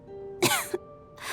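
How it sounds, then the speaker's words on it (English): A character in the video game Genshin Impact coughs twice in quick succession, a harsh close cough followed by a shorter one, then a breathy rasp trails off; no other voices. "How long have you had that cough, Tonya?"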